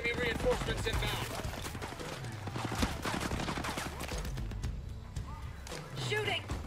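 Gunfire in the video game Ghost Recon Breakpoint, rapid overlapping shots and bursts running throughout, dense and steady with continuous game noise behind them, alongside speech.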